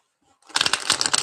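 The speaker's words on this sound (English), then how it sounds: "Let's shuffle these cards." Tarot cards being shuffled close up, starting after a brief quiet moment and turning into a dense, rapid riffling flutter that continues to the end.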